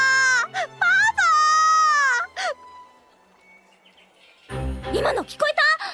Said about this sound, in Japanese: 今の聞こえた？ 誰か泣いてる。